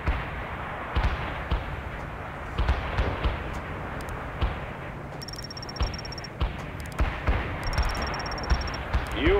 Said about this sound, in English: Carpet bombing requested.